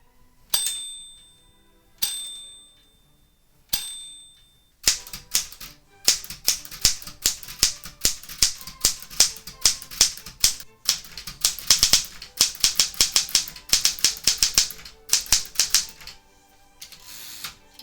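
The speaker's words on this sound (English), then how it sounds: "I've included the audio for those of you that like the sounds of typewriters." A Smith Corona typewriter from the 1960s, first a few carriage-return bell dings with ratchet clacks, then rapid uneven bursts of close, loud key strikes typing on.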